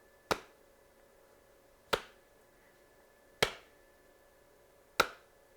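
A lone hand clap used to sync a video recording repeats four times at even intervals of about one and a half seconds, each a sharp, close crack that dies away quickly in a quiet room.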